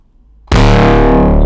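Synthesized foghorn bass shaped with an equalizer and saturator bursts in abruptly after near silence, a loud, distorted, sustained low blare with gritty overtones held to the end.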